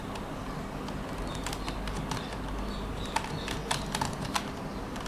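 Typing on a computer keyboard into a browser, heard as light scattered key taps over a steady hiss of background noise, fairly faint, with no talk.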